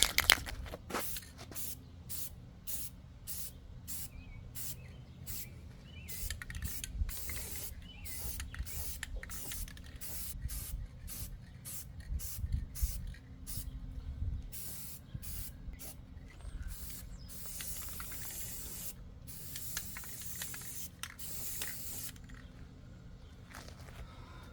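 Aerosol rattle-can paint hisses in repeated short bursts as a second full-coverage coat goes onto a car, with small clicks and shuffling between sprays and a longer steady spray near the end.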